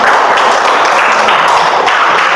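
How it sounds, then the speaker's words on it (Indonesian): A classroom group claps for a classmate after a history presentation, a dense, steady patter of many hands that holds loud and close for about two seconds with no talking over it. "berikan tepuk tangan untuk temennya"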